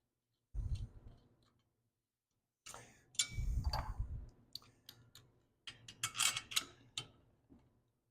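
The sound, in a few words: bolt threads clicking into groove on Honda GX340 cylinder head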